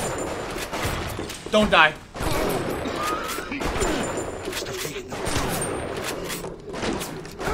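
Shotgun blasts and combat noise from Bioshock Remastered, a few sharp bursts over a busy game soundscape, with someone talking throughout.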